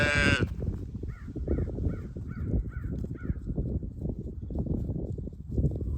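Sheep bleat repeatedly outdoors over steady wind-like noise, with a run of short, rhythmic calls in the middle, moderately close.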